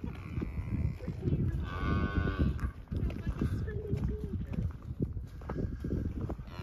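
Longhorn cattle in a pasture: a loud, drawn-out moo close by, followed by a second lower one, with shuffling hoof sounds and people talking over the animals.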